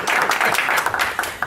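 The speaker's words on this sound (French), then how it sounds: "on applaudit pour elle" A gathered audience breaks into applause, a short burst of dense, fairly loud clapping with a few distinct sharp claps on top and no talking.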